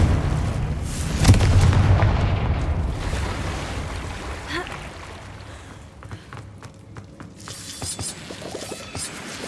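A Confringo explosive spell goes off in Hogwarts Legacy, a loud booming blast early on followed by a rumbling, fading tail with scattered smaller crackles.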